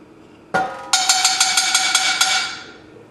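A metal pot set down on a stove for turkey chili: one sharp clank, then a quick series of bright ringing metallic ticks that fade out, close by and alone.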